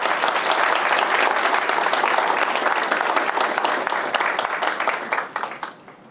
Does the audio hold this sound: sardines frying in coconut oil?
no